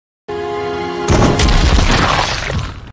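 A loud shotgun blast in a horror film fight against a welder bursts in after a sustained tonal drone, followed by a dense, roaring rumble that lingers for nearly two seconds.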